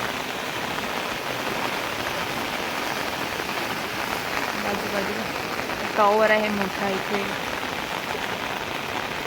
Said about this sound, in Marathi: एवढा पाऊस पडतोय ना जाम पाऊस पडतोय